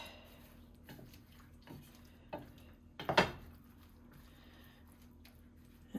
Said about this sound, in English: and my flat leaf parsley. I'll stir this up.